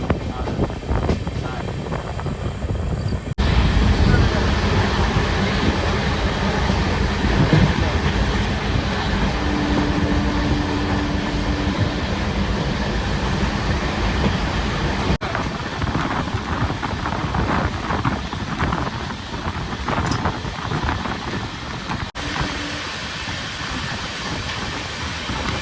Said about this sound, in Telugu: ట్రైన్ స్పీడ్ అయితే 120-125 అయితే కొడుతున్నాడు